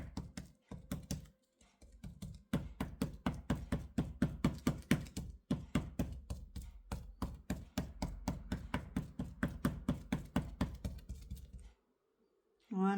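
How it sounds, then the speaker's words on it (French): Rice being tapped down with the back of a spoon while making avocado and cucumber maki, a fast, regular series of soft close knocks that runs for about ten seconds, with a short break partway through. "Je tapote comme ça avec le dos de la cuillère."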